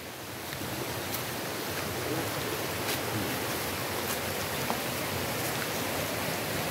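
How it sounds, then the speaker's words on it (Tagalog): A mountain river flows in a steady, broadband rush of moving water, even and unbroken throughout with a few faint ticks on top. "Ito na yung ilog na hinahanap namin"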